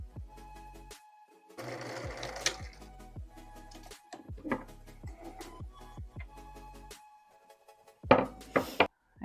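Home sewing machine stitching a garment sleeve seam in short bursts, with rhythmic needle chatter broken by pauses, repeated thumps and clicks of fabric handling, close and moderately loud.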